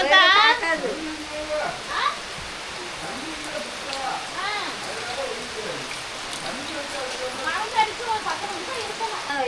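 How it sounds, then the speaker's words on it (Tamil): Steady rain falling outdoors in the rainy season, a continuous dense hiss, while birds chirp in short bursts through it and a voice speaks briefly. "மழை வருது பாத்தீங்களா"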